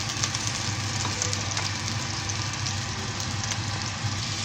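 Butter melting in a hot pan gives off a steady, dense sizzle that fills the whole stretch evenly and fairly loud, with faint crackles on top and no talking.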